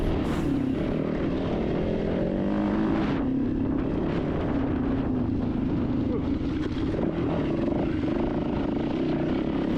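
A dirt bike ridden on a hare and hound off-road loop, its engine droning steadily and loud with rising and falling throttle pitch and rough wind buffeting over it.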